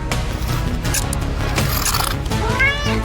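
A cartoon cat gives a rising, wavering meow near the end, heard over a dense, steady background of music and effects.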